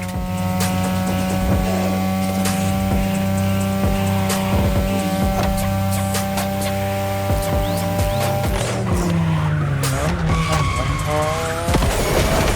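Racing video game audio of a 2002 third-generation Mazda RX-7 with a rotary engine, its tires skidding and squealing loudly and continuously over a steady engine drone, with game sounds shifting near the end.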